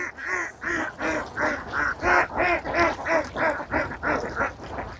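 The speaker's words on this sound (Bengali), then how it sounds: "সেখান থেকে হাঁসের খামারটি দেখানোর জন্য আপনাদেরকে চেষ্টা করতেছি" Ducks at an open-air duck farm quack loudly and close by in a rapid, repeated series of about a dozen honking calls with no talk.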